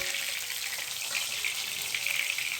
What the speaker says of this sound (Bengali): ভাজার তেলের মধ্যে আমি ফুলকপিটা ভেজে নিচ্ছি।